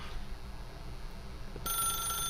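An electronic telephone ring starts abruptly near the end and sounds bright and repeating over faint background hum in The Stanley Parable video game, with no talking.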